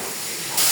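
A water spray hisses on a pig farm as pigs are bathed: faint rushing at first, then a loud, steady broadband hiss bursts on near the end.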